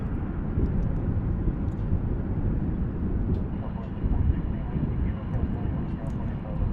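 Airliner at DFW Airport rolling onto the runway, a continuous low rumbling engine roar heard from a distance, with a person talking over it.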